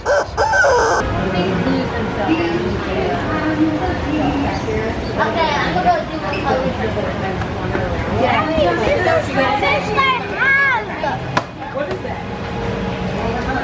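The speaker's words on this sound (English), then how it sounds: "Chicken!" Chicken clucks and a rooster-like crow ring out inside a busy shop at Ponce City Market in Atlanta, loud and close, mixed with chatter and background crowd noise.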